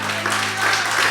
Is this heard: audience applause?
yes